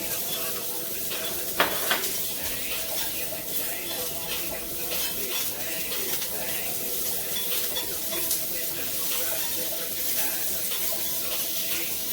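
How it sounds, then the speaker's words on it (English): Asparagus spears sizzle steadily in a hot pan as they are turned and coated, with light pan clatter and a sharp clink near the start. The frying hiss runs continuously at moderate loudness. "Go ahead and give your asparagus a turn. Nice turn in the pan."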